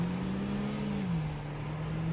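A 1.6 diesel Volkswagen Passat accelerates hard from a standstill, its engine droning steadily and loudly with a clear pitch drop around a gear change midway, heard from inside with no talking.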